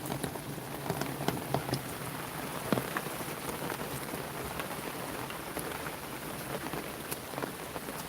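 Steady rain falls and patters on surfaces outdoors, a dense even hiss of drops with no voices.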